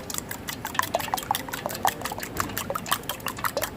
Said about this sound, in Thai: ตีไข่ไปเรื่อย ๆ